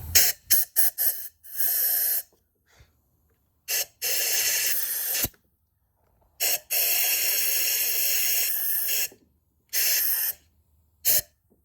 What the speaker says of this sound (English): One compressed air coming up. You'll see some crap fly out.